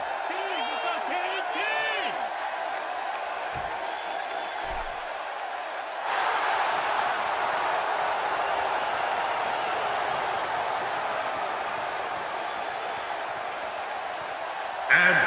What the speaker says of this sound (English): An attitude, I might add, that is somewhat appreciated by this capacity crowd.